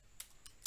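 Three sharp, faint keystrokes on a computer keyboard, evenly spaced about a quarter second apart, as an SSH command is typed into a terminal while launching an EC2 instance.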